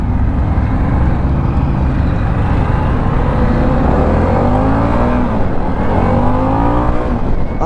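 A Harley-Davidson Pan America Special motorcycle engine howls loud and close, its pitch climbing and falling through hard revving runs with a continuous roar and no talk over it.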